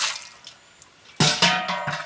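Pots being rinsed under a running tap in a Konkan village home, starting with faint drips and trickles, then a louder burst of splashing water and clattering vessels near the end.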